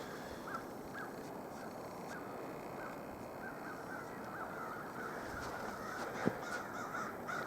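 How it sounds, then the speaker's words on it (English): A noisy bird calls repeatedly at a distance during a winter nature walk on an island park in Alpena, Michigan, its harsh caws recurring over steady outdoor background noise. "Friggin' blackbird. Noisy."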